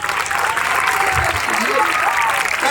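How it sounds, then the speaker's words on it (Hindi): An audience applauds at a village welcome for an Asian Athletics gold medallist, a steady wash of clapping that holds throughout. "तालियां बजती रहें"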